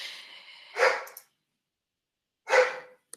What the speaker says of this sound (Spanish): ¿Usted los está dejando sordo el perro también o solo a mí?